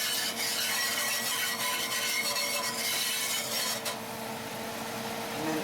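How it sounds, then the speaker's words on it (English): A whisk scrapes and rubs rapidly around a pan with pan juices, a continuous brisk scratching rhythm that eases into a softer swishing toward the end. "Whisk for about 30 seconds."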